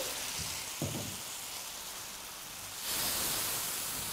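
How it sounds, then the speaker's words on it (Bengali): Potatoes and cauliflower tipped into a hot pan for alu kopir dalna, with a brief rush of food landing near the start and then a steady hissing sizzle that swells louder toward the end. "এবার আমি ঢেলে দেবো আমার সেই আলু আর কপি।"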